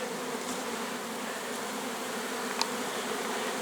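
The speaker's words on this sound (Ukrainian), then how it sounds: "ідеш по пасіки і чуєш, що тут є бджоли" Steady hum of many honeybees buzzing together at an apiary, a constant even drone with a faint click partway through, no voices.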